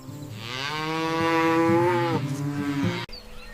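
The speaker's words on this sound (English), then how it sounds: "This is a calf." A calf moos once, a long drawn-out harmonic call that swells and then fades, close and loud, followed by a brief click and quiet.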